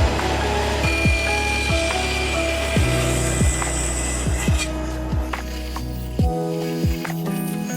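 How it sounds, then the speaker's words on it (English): Short wooden chair sticks are kerfed with a hand saw, giving repeated rasping strokes in quick bursts with swooping tonal squeaks on each pass, close up and with no talking. "I'm just gonna kerf these short sticks."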